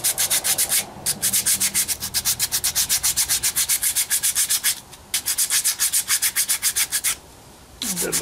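Sandpaper rubs back and forth over a wooden dog roll-around toy in fast, even strokes, loud and close, with two brief pauses and a stop near the end, no talk.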